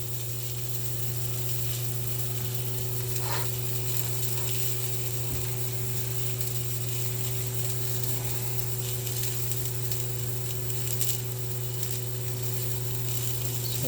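Onions browning in a pan on the stove, giving a steady, quiet sizzle with a constant low hum underneath and a few faint clicks, with no talking.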